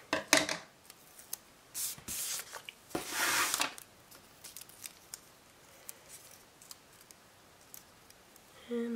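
Scissors cutting paper while a debt tracker is set up, heard as a few close, crisp snipping and rustling bursts near the start, then quiet handling noise.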